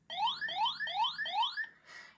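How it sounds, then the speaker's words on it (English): A Lego city space set's sound button plays a toy electronic alarm, four quick rising whoops in a row followed by a short buzzy tone, close and clean with nothing else audible. "It's like the alarm."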